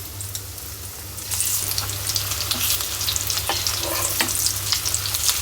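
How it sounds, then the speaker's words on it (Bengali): Food sizzles and crackles steadily as it fries in a pan, with occasional stirring scrapes; the frying is close and continuous, growing slightly louder after the first second, with no talking. "আমি এই যে ভাজা শেষ করে দিব"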